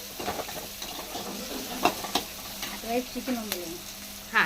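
Mustard seeds, cumin, onions and curry leaves sizzle in hot oil for a drumstick tempering, a soft crackling fry punctuated by stirring scrapes and small pops.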